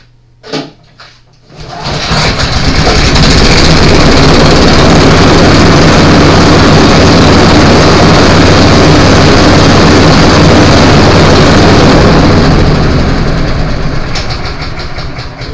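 Two blower engines fire up after a couple of brief sputters and settle into a loud, steady running roar, their combined drone holding evenly close by with no talk over it.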